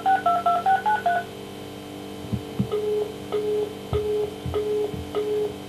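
Touch-tone telephone dialing: a rapid run of short keypad beeps, followed by a steady series of evenly spaced ringback tones with low clicks, close and clear with no talk.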